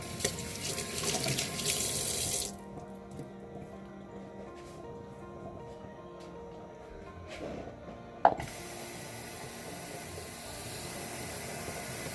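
Kitchen tap runs into a sink while chicken wings are set to soak, a loud steady gush that cuts off and leaves quieter faucet trickle and handling clatter, with a sharp clack near the end before the flow resumes.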